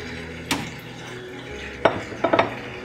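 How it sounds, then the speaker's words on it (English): Chopped tomatoes go into a pot of chicken curry, heard as a metallic clank of utensil on pot followed by a few quick scraping knocks, moderately close over steady background noise. "So now I'm gonna add the tomatoes that I have chopped."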